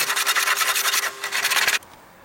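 A hand plane rasps along wood in quick, repeated strokes, close and loud, then stops abruptly.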